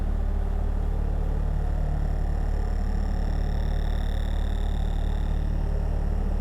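A cicada-like synth patch, a bass voice on a Pulsar synthesizer with a No Coast layered on top, drones steadily and loudly, thick low hum beneath a buzzing upper texture with a faint shimmering whistle in the middle.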